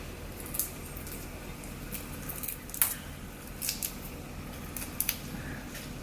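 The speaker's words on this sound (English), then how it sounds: "What we're gonna do is peel the shrimp" Raw shrimp being peeled by hand with the tails left on, giving a series of sharp, crisp snapping and crackling clicks that come in irregular bursts, close by and fairly loud against a quiet background.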